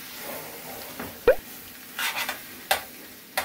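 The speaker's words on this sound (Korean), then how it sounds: "먼저 볶는 거야?" Beef stir-fried with soy sauce and sesame oil in a pot, heard as soft sizzling with a few sharp utensil scrapes and clinks against the metal, close and intermittent.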